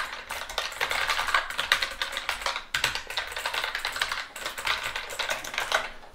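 A Genesis Thor 420 RGB slim mechanical keyboard with Blue switches is typed on rapidly and close up, giving dense, crisp clicky keystrokes in continuous runs with a brief pause midway and no speech.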